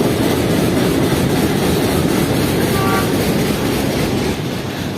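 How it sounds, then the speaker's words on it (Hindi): The Jaffar Express passenger train rumbles loudly past at close range in Pakistan, a steady heavy roar of rolling wheels and rail clatter with faint horn tones. "तो ये 40 डाउन जाफर एक्सप्रेस आ रही है"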